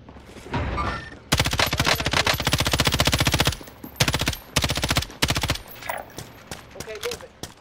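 Sustained automatic gunfire in Call of Duty, a loud rapid stream of shots for a couple of seconds, then several short separate bursts, with a voice talking before and after.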